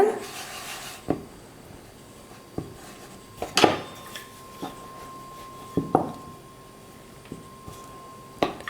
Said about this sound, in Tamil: இப்போ இந்த மாதிரி எல்லாத்தையும் கட் பண்ணி எடுத்ததுக்கப்புறமா ஒவ்வொன்றா நம்ம தேய்ச்சி எடுத்துக்கலாம்